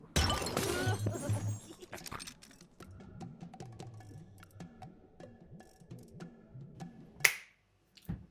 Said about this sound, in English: Here you can see it just explodes and then something splashes over the bubbles.